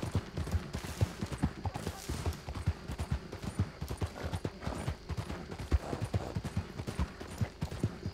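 A galloping horse's hooves pound in a fast, steady rhythm throughout during an escape on horseback, close and fairly loud, with faint voices in the background.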